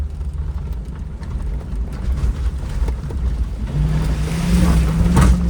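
A Land Rover Discovery 1 on mud-terrain tires drives into a river, its engine rumbling steadily and rising in pitch as the throttle opens, with water and wind noise around it.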